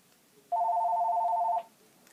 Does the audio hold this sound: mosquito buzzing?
no